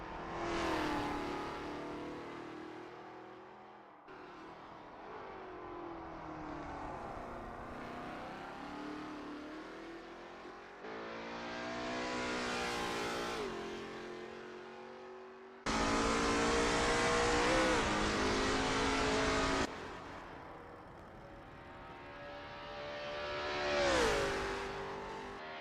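A Lola T70 MkII Spyder race car roars around the Kyalami 1967 circuit in a racing game, its engine revving and shifting repeatedly with rising and falling pitch, loud and continuous throughout.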